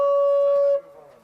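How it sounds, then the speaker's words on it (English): A single horn blast calls people to a meeting at a woodsmoke camp, one steady, clear tone held for under a second, then cut off, leaving faint ambient noise. "That's the sound of the horn for the meeting."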